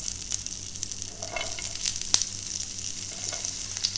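Vegetables sauteing in butter or ghee for potato rosti give a bright, steady sizzle with a few sharp clicks of a utensil against the pan, close and moderately loud.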